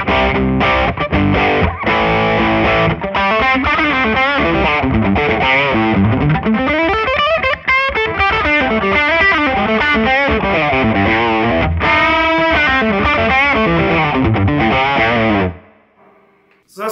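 An electric guitar plays heavy rhythm parts through an overdriven Dude amp, loud and continuous, with chunky chords and moving riffs. It cuts off near the end.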